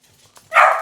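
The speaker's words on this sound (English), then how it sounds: "pardon my dog, she's going nuts today" A pet dog barks once, loud and close, in a single sharp bark that rings briefly before fading, with no talk over it.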